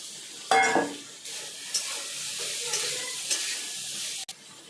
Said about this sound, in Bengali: মশলা কষা হয়ে গেছে, এবার আমি দিয়ে দেবো মধ্যে মটর।